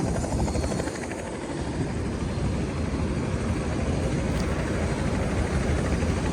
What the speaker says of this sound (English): Can't believe I got that helicopter taken off.